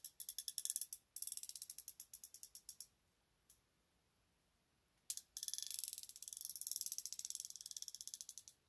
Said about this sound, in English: This is the smoothest feeling wrench I own right here. It's got the swivel head.